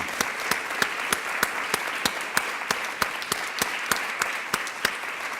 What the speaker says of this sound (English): please raise your hand so we can give you a rousing round of applause for a job well done